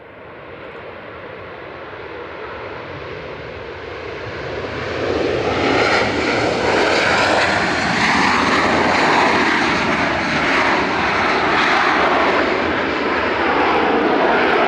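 A passenger airplane passes at Manchester Airport with a steady jet roar that builds over several seconds, then holds loud and close with a sweeping whine, no talking.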